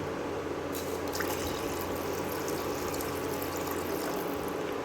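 Water pours steadily into a cooking pot for egg gravy with a continuous rushing, splashing hiss lasting throughout.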